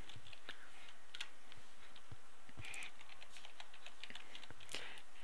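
Someone types a user ID and password on a computer keyboard, producing sparse, irregular soft key clicks at close range over a faint background hiss.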